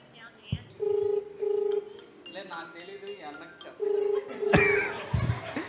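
Keypad tones from a telephone being dialed for a call during a Christmas Bible quiz skit, a short run of steady electronic beeps in two bursts, with a brief laugh and some talk between them.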